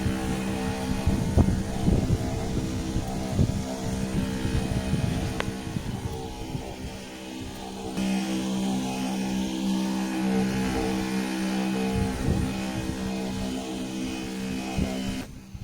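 A motorized pesticide sprayer drones steadily while spraying a cotton crop in a farm field, a continuous engine hum with irregular knocks, close and moderately loud throughout.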